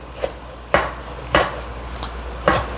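A kitchen knife chopping cabbage on a cutting board for Jamaican steamed cabbage: four crisp, close thunks spaced about half a second to a second apart, with faint board noise between strokes and no talking.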